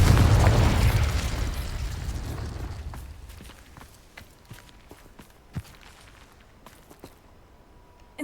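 A Confringo fire explosion spell cast in Hogwarts Legacy: a big loud booming blast that rolls off and fades over a few seconds, followed by scattered light crackles and taps, then a sudden new burst at the end.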